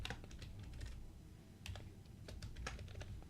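Quiet, close keystrokes clatter on a computer keyboard in irregular quick runs, with short pauses between bursts of typing.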